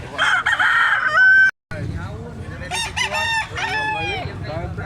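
A yellow-legged full stag gamecock at a gamefowl market in Carbon, Cebu crows loudly and close, a long sustained call, then after a brief silent gap more overlapping crows and clucks from nearby birds continue.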